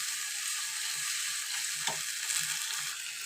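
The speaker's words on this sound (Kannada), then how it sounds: "ಹುಣಸೆ ರಸ ಇದೆಲ್ಲ ಟೊಮೆಟೊ ಜೊತೆ ಚೆನ್ನಾಗಿ ಕುದಿಬೇಕು" Tamarind juice and tomato sizzle and bubble in a pan, a steady close hiss running evenly throughout, with a faint clink from a utensil near the middle.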